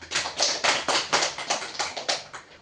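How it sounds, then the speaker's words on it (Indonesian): Applause for a student in a group guidance class, a short run of roughly a dozen evenly spaced claps, close and crisp, fading slightly at the end. "berikan aplaus kepada Sofia"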